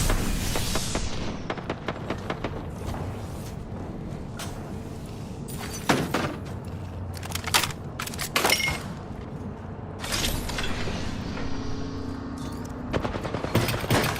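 Video game gunfire in a college football dynasty game, dense bursts of rapid automatic shots and sharp single cracks, loud and close, coming in waves with brief gaps between volleys.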